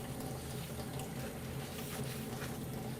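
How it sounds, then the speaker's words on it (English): Water runs and splashes steadily while engine cylinders for an S&S Cycle motorcycle upgrade are washed, giving a constant close hiss of flowing liquid with faint sloshing and no talk. "Now that we're done washing the cylinders"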